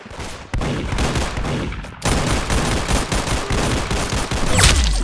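Rapid automatic gunfire in a shooter video game, dense and loud, with sustained bursts broken by a brief pause and a sharp impact near the end.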